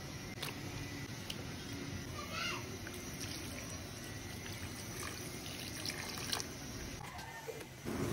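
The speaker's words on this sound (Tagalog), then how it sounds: "So kailangan natin maglagay ng tubig para lumambot ang ating pork." Water pours steadily over pork in a pan while homemade tocino cooks, a soft, continuous trickle and splash heard fairly faint and close throughout.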